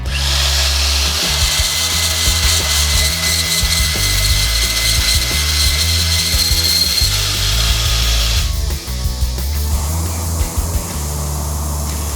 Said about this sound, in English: Even if you get your table with the sanding belt set up perfectly square, the sanding belt itself can make things not square.